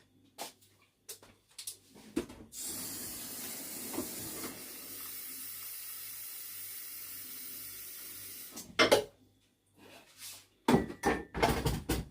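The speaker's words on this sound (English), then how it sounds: "let me boil my kettle because I need it" An electric kettle boils in a home kitchen, a steady rushing hiss that builds and holds for several seconds, framed by short bursts of handling and clatter at the start and near the end; no one talks.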